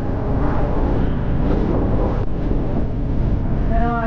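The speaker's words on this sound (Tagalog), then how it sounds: "Mahangin yung panahon." Steady broadband wind rush buffeting the microphone during a bicycle ride, continuous and loud throughout with a low rumble underneath.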